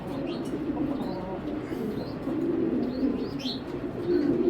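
Belgian racing pigeons coo in a steady low murmur close by, with a few brief higher chirps scattered over the top and no voices.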